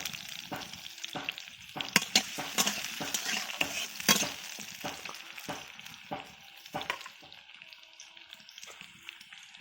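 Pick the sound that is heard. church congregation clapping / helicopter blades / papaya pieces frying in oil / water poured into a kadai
papaya pieces frying in oil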